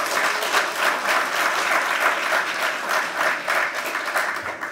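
Vigorous audience applause opening a workers' memorial ceremony, dense sustained clapping from a large crowd with no talk over it.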